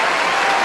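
A burst of loud crowd applause and cheering, used as a sound effect, a dense, close wash of clapping hands lasting under a second.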